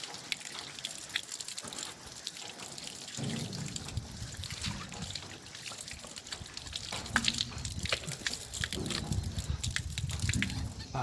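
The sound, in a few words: washing hands and face with water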